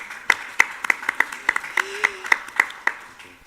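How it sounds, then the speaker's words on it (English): Sparse, fairly close handclaps at a conference plenary session, a dozen or so distinct claps in a loose steady rhythm rather than a full crowd ovation, over a quiet room with a faint tonal hum. "Round of applause."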